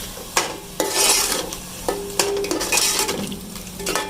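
Keema and spices fry in a pot with a constant sizzle while a spoon scrapes and stirs in repeated sharp strokes against the metal, close and without talk.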